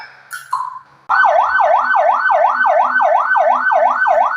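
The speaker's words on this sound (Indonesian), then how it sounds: "nah untuk sirine yang keempat ini biasanya kita bunyikan ketika membawa pasien gawat dan darurat atau pasien dalam kondisi kritis." Ambulance siren, the fourth siren type, used for critical emergency patients: after a brief tone it starts abruptly as a loud, close, rapid rising-and-falling wail that repeats evenly and keeps going.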